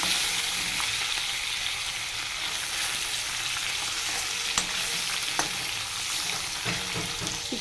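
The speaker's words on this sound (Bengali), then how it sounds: "মাছটা ভেজে নেবো ভালো করে" Bhetki fish fries in hot oil in a wok, a steady close sizzle with soft crackles and a few sharp clicks, with no talking.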